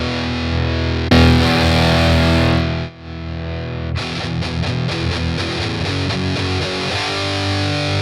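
Electric guitar played through a Boss Katana 50 MkII practice amp on its brown channel, giving a loud, heavily distorted tone with sustained chords, a brief pause, then a run of fast palm-muted chugs.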